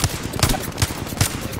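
Rapid bursts of gunfire in the shooter game Apex Legends, four sharp evenly spaced shots crack out close and loud over a busy background.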